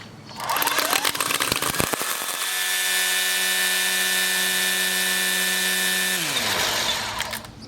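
A Hart 40 volt electric string trimmer whines up to a steady high-pitched run close by, holds for several seconds, then winds down, after a few loud knocks at the start.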